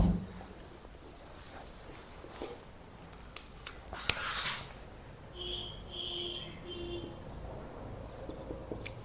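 Scratchy strokes of writing on a board in a classroom lesson, intermittent and fairly faint, with a louder rubbing burst midway.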